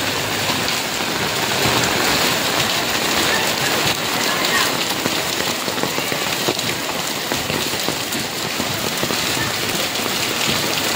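Heavy rain from a typhoon in Rizal pours down in a dense, unbroken roar, splattering on surfaces close by, with faint voices talking underneath.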